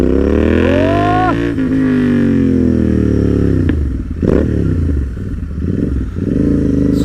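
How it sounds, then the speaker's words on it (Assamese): A modified Royal Enfield Interceptor 650 rumbles loudly while being ridden, its deep exhaust note rising and falling with throttle changes and road noise, close and continuous without speech. "এক্সজষ্টৰ চাউণ্ড কিন্তু মজা লাগিছে, এনেকুৱা লাগিছে হাৰ্লি ডেভিডছন চলাই আছোঁ নেকি।"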